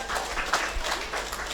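An audience claps in thanks at a church VBS program, a short burst of scattered handclaps in a room.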